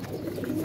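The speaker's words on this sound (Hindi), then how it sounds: "ये हमारे जो उड़ने वाले कबूतर हैं।" A flying pigeon gives a single short, low coo, close and moderately loud.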